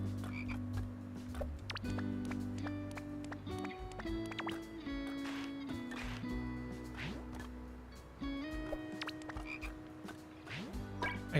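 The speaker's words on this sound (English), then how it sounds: "I hear a frog." A frog croaks repeatedly in the video game Corgi Space, its rhythmic calls sitting over steady tonal game music and effects.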